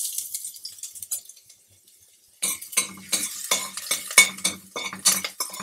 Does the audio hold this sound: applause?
no